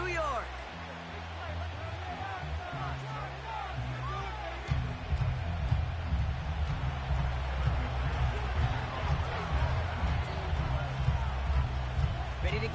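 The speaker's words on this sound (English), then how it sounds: "this crowd is loud and this crowd is ready for a ball game" A loud stadium crowd roars in the Madden 25 football video game at Highmark Stadium in Orchard Park, New York, before kickoff. A steady, dense roar fills the scene and swells louder partway through.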